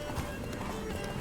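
Roach, the horse in The Witcher 3, gallops with a quick run of hoofbeats under a steady wash of background noise, heard in a short burst.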